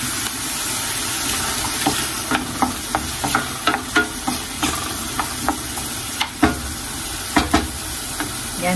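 Tomatoes frying in a pan, a steady sizzle broken by repeated scraping stirs at an uneven rhythm, close and fairly loud with no talking.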